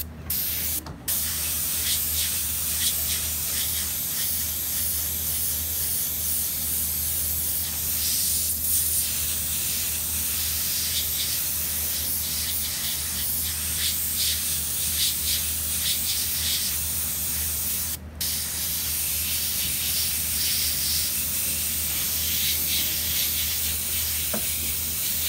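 An airbrush sprays paint onto a t-shirt in a steady, close, continuous hiss that runs almost the whole time, broken only by a couple of very short pauses.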